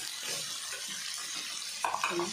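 Beans and carrots frying in a pan for prawn fried rice, a faint, steady sizzle with a few louder stirring scrapes near the end.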